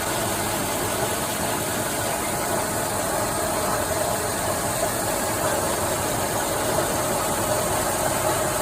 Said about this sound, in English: I'll post that video that where we got the engine running in it